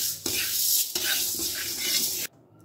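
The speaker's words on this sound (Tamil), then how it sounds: "அடுத்து 100 கிராம் உளுந்து சேர்த்துக்கலாம், இதையும் நல்லா சிம்மில் வச்சு செவக்க வறுத்துக்கலாம்." Urad dal dry-roasts in a pan on low heat with a close, scratchy rustle of stirring, pausing briefly once, then cutting off abruptly near the end to near silence.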